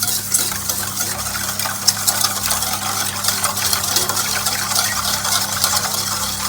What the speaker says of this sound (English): And we keep whisking till the sugar gets dissolved.